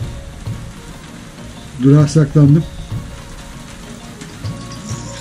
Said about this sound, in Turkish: Ve yağmur başladı. Yakalandım yine yağmura.